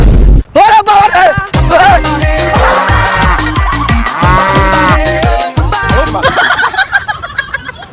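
A cow at a livestock sale lows loudly and close in long, drawn-out moos, with sharp knocks and other harsh noises around it.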